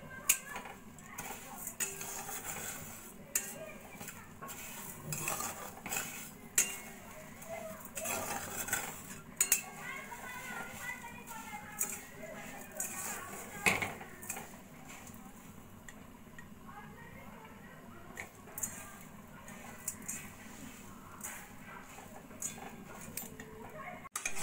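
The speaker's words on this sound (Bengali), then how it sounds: "আমি এইভাবে আস্তে আস্তে নাড়া দিয়ে দিয়ে চিনিটা ক্যারামেলাইজ করে নেব।" Sugar melting into caramel in a pan is stirred slowly, soft scrapes and light clinks of a spoon against the pan recurring close by, with a quiet simmering patter underneath.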